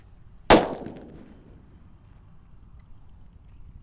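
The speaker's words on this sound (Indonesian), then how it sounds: "Lanjut, ini ada disco Happy Flower warna ungu. Banter sekali ini guys." A purple Happy Flower disco firecracker goes off in a single loud, sharp bang with a fading rumble afterward, followed by quiet outdoor background noise and no talk.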